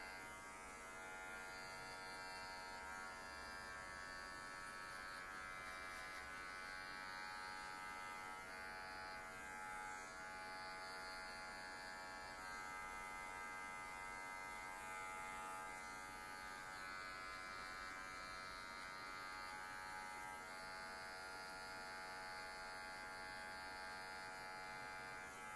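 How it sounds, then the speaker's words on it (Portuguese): An electric hair clipper buzzes steadily and faintly while a trimmer finishes a fade haircut with a stripe. The drone never stops, and its pitch shifts slightly as the blade works the hair. "Vou pegar minha maquininha de acabamento agora e com a maquininha de acabamento, dou aquela esticadinha na pele"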